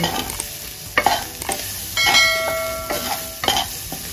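Beans paruppu usili being sautéed and stirred in a pan gives repeated spatula scrapes and clinks against the metal over a light background sizzle, close and fairly loud.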